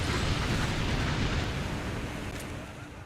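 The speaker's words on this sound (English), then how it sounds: "Another teleportation ship shot down over London." An enemy ship in a video game is shot down over London and explodes, producing a dense, rumbling burst that starts loud and slowly fades across a few seconds.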